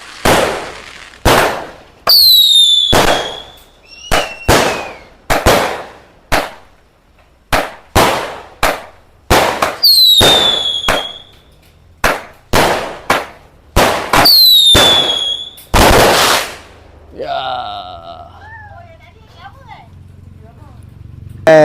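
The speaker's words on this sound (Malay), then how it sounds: "So kita nak bakar mercun bateri yang terakhir ni." A firecracker battery cake bursting outdoors during Hari Raya celebrations, loud sharp blasts firing in an uneven rapid series, some with rising whistles, before the shots thin out into a fading crackle.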